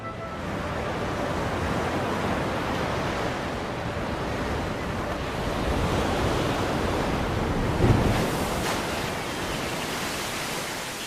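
Ocean surf washes onto the desert coast of the Atacama, a continuous broad roar of breaking waves with wind buffeting the microphone.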